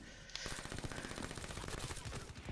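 Rapid machine-gun fire in a Black Ops 3 gun battle, dense overlapping bursts starting abruptly and continuing loud and close throughout.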